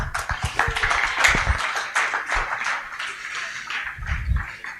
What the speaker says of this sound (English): So we can clap for group 4.